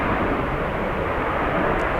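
A JetBlue airliner bound for Pittsburgh pushes back, its engines giving a steady, broadband rumbling roar at moderate distance that holds constant throughout.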